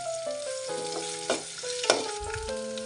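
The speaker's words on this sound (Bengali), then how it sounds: "আদাটাও দিয়ে একটু ভেজে নিচ্ছি।" Ginger and garlic frying in a pan for a nut pickle, a steady soft sizzle with a couple of sharper clinks from stirring, close by and without talk, while musical tones run over it.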